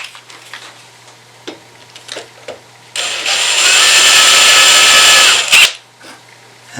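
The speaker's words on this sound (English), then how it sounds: "have to be careful that this twist drill doesn't grab and hog that in." A twist drill bores into the wood of a harp's box, a loud whining burst of about three seconds after quiet workshop taps and knocks, then stopping abruptly.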